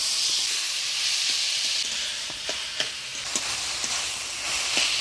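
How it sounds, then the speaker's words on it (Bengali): Boiled banana flower tossed into a hot pan of ground spices, ginger, cumin, coriander, turmeric and salt, giving a steady loud sizzle and hiss with a few sharp crackles and pops, no talk. "এবারে দিয়ে দিব সিদ্ধ করে রাখা মোচা"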